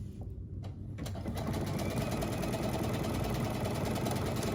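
After a brief quiet start, a sewing machine runs up to speed and stitches fabric for a dress pattern in a continuous, even mechanical hum close by.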